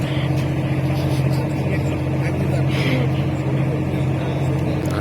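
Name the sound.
passenger launch boat approaching on a river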